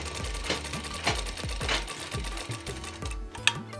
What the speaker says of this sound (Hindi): दूसरे आस्तीन की भी सिलाई आर्म होल्स चेस्ट तक फिटिंग करते हुए